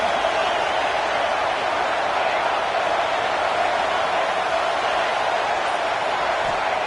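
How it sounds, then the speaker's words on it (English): Stadium crowd at a football game, a dense, steady roar filling the whole stretch at constant loudness with no distinct voices standing out. "Listen to this crowd noise. This stadium is vibrating."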